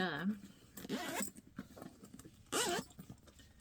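A zipper on a handmade bag with a webbing strap and slip pocket rasps in short bursts as the bag is handled, with a person talking over and between the pulls.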